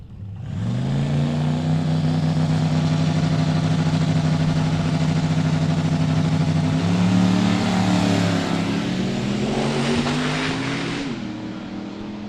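Drag race cars, a Buick Grand National against a Colorado, launch at a drag strip with a loud, sustained engine roar. Pitch climbs steadily over several seconds as they accelerate away, then the roar drops off near the end.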